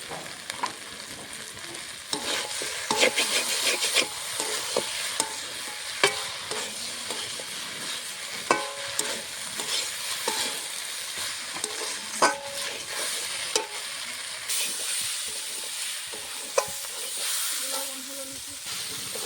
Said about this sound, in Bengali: মাছটা দিয়ে দিয়েছি আমি 5 মিনিটের মধ্যে আর একটু ভেজে নেব।